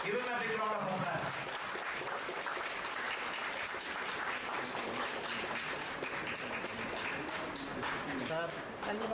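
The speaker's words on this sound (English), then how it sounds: "Give him a big round of applause" An audience at an international life science conference gives a steady, moderately quiet round of applause that continues throughout. A voice can be heard briefly at the start.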